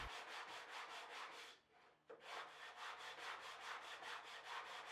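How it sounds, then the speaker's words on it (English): Homemade, jury-rigged sanding block rubbed back and forth over an antique wooden tool box, steady rhythmic scratchy strokes close up, with a brief pause midway before the sanding resumes. "Why the fourth grader looking jury-rigged sanding block?"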